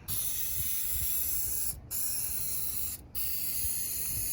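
A can of spray adhesive hisses steadily while coating a truck headliner backing board, close and even, broken by two brief pauses where the nozzle is released.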